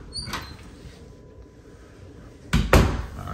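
A linen closet door in a house bathroom thumps twice in quick succession near the end, close and fairly loud against a quiet room.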